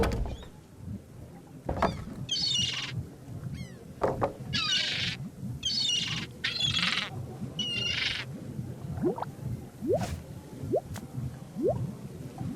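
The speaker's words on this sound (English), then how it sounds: "I think that bird'll peck my hand off." A bird squawks in the Monkey Island: 1장 해적의 세 관문 pirate adventure game, several loud rasping calls in bursts over a busy ambient bed of drips and squishy effects, with no one talking.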